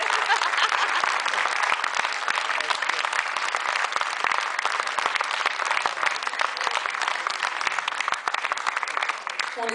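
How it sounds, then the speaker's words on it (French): A French audience applauds the performers after a salsa show, with dense, continuous clapping filling the whole stretch at even loudness and no speech over it. "On les applaudit bien."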